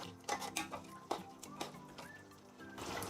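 Metal lid and utensil clatter on a pot of cooking biryani with meat and potatoes: a series of close, sharp clinks and taps with light ringing, fairly quiet, no talking.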